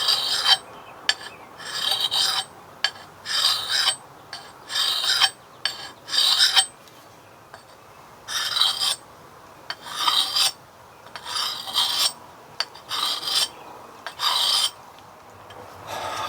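An old hatchet blade is restored with a file, giving repeated rasping strokes in short regular bursts with brief pauses between them. The strokes are close and fairly loud, with no other sound.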